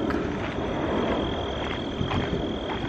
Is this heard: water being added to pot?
no